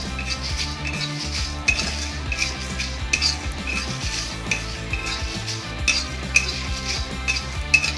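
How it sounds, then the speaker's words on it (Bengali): A spoon scrapes and clanks around a pan of bhuna chicken with black pepper, steady stirring with a soft sizzle underneath and repeated sharper metal knocks, close and fairly loud. "এবার এটাকে একটু ভালো করে নেড়ে নিতে হবে।"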